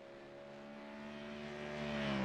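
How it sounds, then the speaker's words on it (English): A Ford Mustang GT3 race car in a sim racing game roars past a static trackside view at Virginia International Raceway, its engine note swelling steadily louder as it closes in, with no talk over it. "we did see the scream or the roar there of the Ford Mustang of Jack Wyborn coming on past our static camera"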